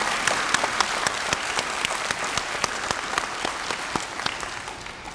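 An audience at a 2024 early college graduation ceremony applauds student speakers, with dense, moderately loud clapping and a few sharp individual claps standing out near the front, sustained for about five seconds without speech.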